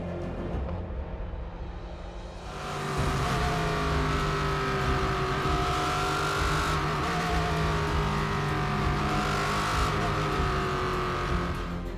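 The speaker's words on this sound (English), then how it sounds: "As the cars blast across the line to start the penultimate race of the year" LMP3 race cars blasting away at the start of a race at Silverstone, engines roaring loudly and continuously with sweeping revs as the pack accelerates and passes, no talk over it.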